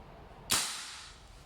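A VFC Knights Armament SR-16 E3 MOD2 CQB airsoft gas blowback rifle fires a single sharp, close crack, followed by a brief gassy hiss that fades away.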